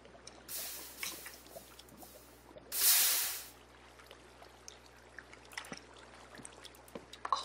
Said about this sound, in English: there's the water pouring in on me